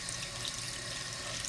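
Tap water runs steadily into a sink while makeup brushes are rinsed under the faucet, a close, continuous broadband rush with no talking.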